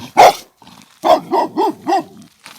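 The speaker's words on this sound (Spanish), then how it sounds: "Luego de los disparos, se oyeron los ladridos de Can." A dog barks nearby: one sharp bark, then a quick series of four shorter, rising-falling barks.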